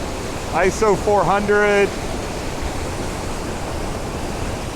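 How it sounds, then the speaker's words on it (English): A waterfall at Tokul Creek, Washington, pours as a constant broadband rush that fills the whole scene, and someone briefly speaks over it near the start. "Like, here is this gorgeous waterfall."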